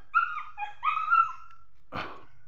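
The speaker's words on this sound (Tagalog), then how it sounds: "Yung mga aso ko guys oh." Several dogs whimper and yip in quick, high-pitched bursts, then give one short, rough bark near the end. The sounds are close and moderately loud with no talk.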